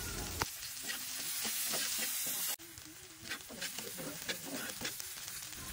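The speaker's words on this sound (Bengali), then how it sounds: "এখন পেঁয়াজ কুচিটা দিয়ে দিলাম, হালকা ভেজে নিচ্ছি।" Chopped onions sizzle and crackle in hot oil while being stirred, with a brief clatter partway through.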